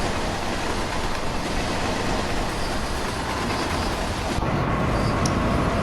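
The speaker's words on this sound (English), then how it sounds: "there's another train passing" A double-deck train rolls past in Train Sim World, a steady dense rumble with rail noise filling the whole stretch, close and loud, shifting slightly near the end.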